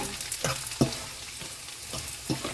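Pieces of cut dried fish, tuyo or daing, fry in a pan with a steady crackling sizzle and a few sharper pops spaced through it. The sound is close and fairly quiet, with no voices.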